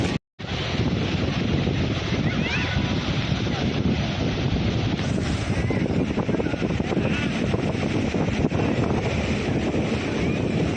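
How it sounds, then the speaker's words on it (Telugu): Morning sea waves roll onto a beach at Nagapattinam, heard as a loud, continuous rush of surf heavily mixed with wind buffeting the microphone from start to finish after a brief dropout at the beginning. "వాటర్ అలలు బాగా వస్తాయి మార్నింగ్ టైం."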